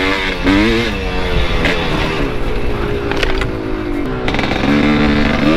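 A Thumpstar TSN 250S motorcycle engine runs steadily at low revs, a loud, close, continuous buzzing drone with slight rises and falls in pitch and no talking.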